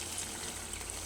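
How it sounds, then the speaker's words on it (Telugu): A cup of water poured into cooked chicken curry in a pan, a steady, fairly faint trickling gush running through the whole moment without any talk. "ఇందులో 1 కప్పు వాటర్ పోసుకుంటున్నా"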